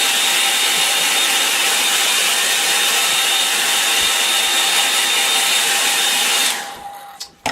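A hair dryer blowing over a wet painting of a tree: a loud, steady whine and rushing airflow held for about six seconds, then switched off with a few handling knocks.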